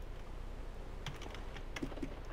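A few scattered computer keyboard key presses, close and soft, with brief clicks bunched near the end over a quiet low background hum.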